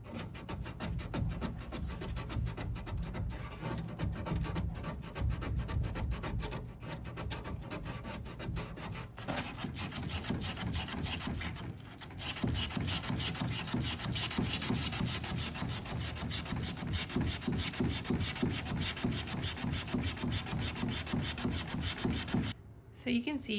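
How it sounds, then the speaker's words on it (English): A vintage Art Deco English tiger oak bar cabinet is hand-sanded along the grain, giving a continuous series of quick scratchy back-and-forth strokes, close and steady, with a brief pause partway through. "You always want to make sure that you're sanding in the same direction of the grain"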